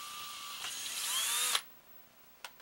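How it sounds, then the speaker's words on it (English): A power drill bores through a wooden clothespin, its high whine climbing for about a second and a half before cutting off abruptly, followed by near quiet and one short knock. "then you take your drill bit and you put it into the hole that you just drilled, and then you drill through the other part."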